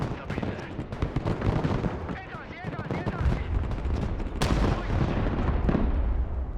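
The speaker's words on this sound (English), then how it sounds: "Jeez, those cruise missiles do so much damage" Cruise missile strikes in a war video game, a dense rumble of heavy explosions and gunfire with a big blast midway, loud and continuous, with a voice talking over it.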